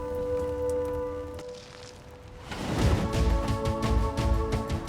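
Rain falling steadily on an archaeological excavation site on Oxford clay, a dense patter that swells louder partway through after a quieter stretch with a steady tonal hum.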